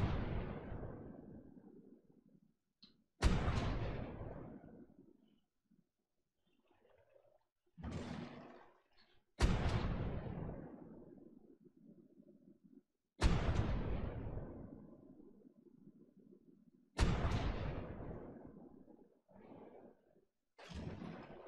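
Cannon fire at a rock elemental in a video game: six heavy booming shots spaced several seconds apart, each a sharp loud blast decaying into a rumbling tail.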